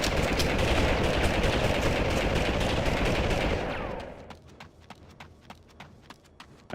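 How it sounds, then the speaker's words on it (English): Dense machine gun fire from the Army Men Air Attack video game rattles loudly for several seconds, then thins into scattered single shots and short bursts. "I gotta watch out for the machine gunners here"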